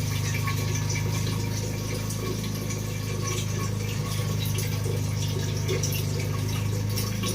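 Water pours steadily into the tank of an air cooler at home, a continuous close rushing flow over a low droning hum, with no talking.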